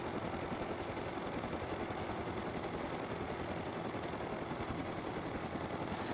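A helicopter flies in the video game Rust, its steady rotor and engine roar filling the air continuously and evenly, with no voices over it.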